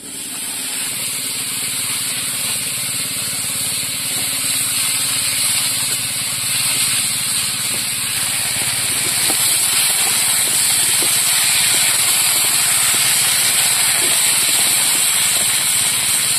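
Vegetables hit a hot pan with garlic for a fish curry and fried bitter gourd meal, giving a steady, loud broadband sizzle and hiss that holds for the whole stretch without letting up.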